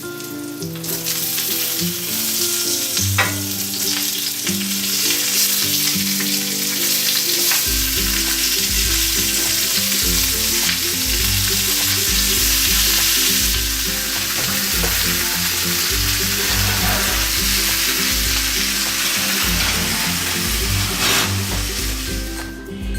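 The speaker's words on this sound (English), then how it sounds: "I'm going to turn off the heat and add our onions" Onions sizzle loudly and steadily in a hot pan beside a roasting pork loin, a dense continuous crackle up close, with no talk and a low droning hum underneath.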